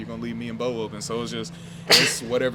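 A single sharp sneeze bursts out near the end, cutting through a man's ongoing speech at a press conference, with talking continuing right after.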